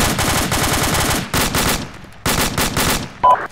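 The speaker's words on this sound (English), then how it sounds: "I'm gonna be firing over you." Rapid automatic gunfire in Arma 2, loud and close, firing in several sustained bursts with short pauses between them, and a brief tonal beep near the end.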